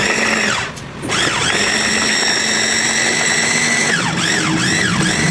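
Electric food chopper whirring loudly as it minces garlic and shrimp, a steady high motor whine with one brief dip early on and rising and falling pitch sweeps toward the end.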